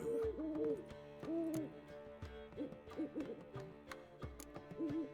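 Poppy, a bird in The Witcher 3, hooting in a run of soft, wavering owl calls over low background music.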